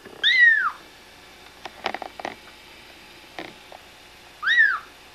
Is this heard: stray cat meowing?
yes